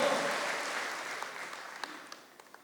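Audience applause at a Catholic gathering fades steadily from a full wash of clapping to scattered individual claps trailing off.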